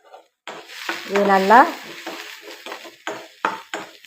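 Chopped onion sizzles and crackles in a hot pan as it is stirred, with scraping and a brief squeaky tone; a voice speaks briefly.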